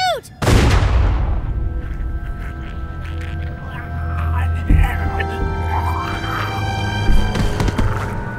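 A single loud gunshot in The Walking Dead game, with a sharp crack and a long, ringing tail under tense background sounds and voices.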